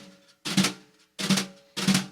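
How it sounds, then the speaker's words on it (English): Single stroke four drum rudiment played with brushes on a snare, three short bursts of soft swishing strokes separated by pauses, close and clear with no talking. "The single stroke 4 is also called, it's a drum rudiment."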